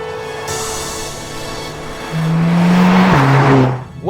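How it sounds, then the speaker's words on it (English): A Mercedes-AMG A45 S hot hatch idles and then revs up hard, its engine note climbing loudly before a quick gearshift that brings a sharp crackle from the exhaust, then fading away. "You get these pops and bangs on the downshift, on the upshift."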